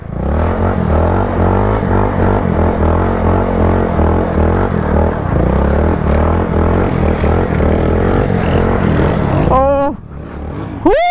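Honda Grom motorcycle drifting, a loud steady small-engine drone with clattering and scraping through most of the run, then the engine rising in sharp revs near the end, with people talking over it.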